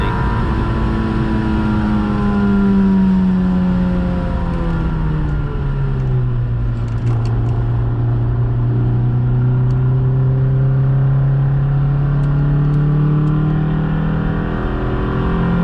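Renault Clio 197 Cup engine driven flat out on laps at Donington Park, a loud steady drone rising and falling in pitch as the revs climb and ease, close and continuous with no talk.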